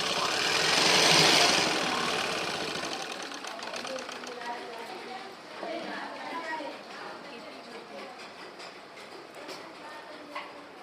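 A sewing machine stitches cotton fabric for a small child's frock, a quick, rhythmic mechanical chatter that starts louder and settles into a steady run of clicking stitches.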